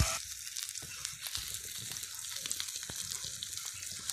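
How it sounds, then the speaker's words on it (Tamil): Fish frying in plenty of oil on a stone griddle, a steady soft sizzle with small crackles and pops throughout, close and fairly quiet with no talk. "நல்லா ஆயில் ஊற்றி நல்லா ஃப்ரை பண்ணிகிட்ருக்கோம்"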